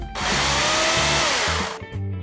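A STIHL electric chainsaw runs at a loud, steady high-pitched whine for most of the moment, its motor pitch sagging slightly mid-run, then cuts off abruptly, leaving a brief lower hum alone without voices.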